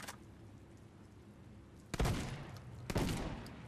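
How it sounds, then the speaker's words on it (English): Two heavy, booming shotgun blasts from the Deadrop video game, about a second apart, each followed by a short ringing decay over a faint background hum. "And the final shotgun, shotgun D."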